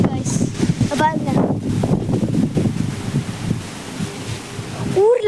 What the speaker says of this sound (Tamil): இங்கே வந்து செம்மையாக காற்றடிக்குது கைஸ்